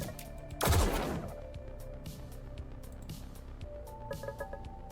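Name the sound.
weapon firing in Echoes, a Lucid9 fangame video game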